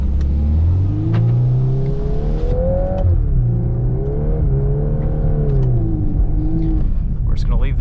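A 2022 Volkswagen Golf R with DSG gearbox accelerates hard on an ice racing track, its engine note rising and falling through shifts, loud and close throughout, with a brief burst of talk over the engine near the end.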